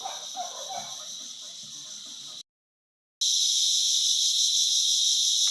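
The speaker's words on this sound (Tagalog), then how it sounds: "Ang lalakas ng huni ng kuliglig na kasi naabutan tayo ng dilim" Loud, continuous crickets chirp at night in a dense high buzz, briefly cutting out to silence before resuming even stronger, with no talking.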